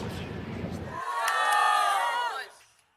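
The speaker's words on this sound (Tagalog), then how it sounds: "Panay ang hiyawan ng fans ng pangalan ni Alex." Fans in a tennis crowd at the Philippine Women's Open quarterfinal roar and shout Alex Eala's name, a loud swelling chant that follows a moment of noisy crowd and fades out near the end.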